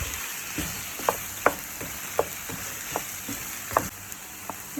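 Chicken stir-fried in a pan for an Arabic-style yogurt curry, a soft continuous sizzle punctuated by repeated light clinks and scrapes of a spatula against the pan.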